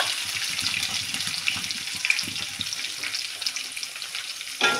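Onion and green chilli go into a pan already roasting dal and peanuts for lemon rice, giving a steady close sizzle with faint stirring scrapes and a louder burst near the end.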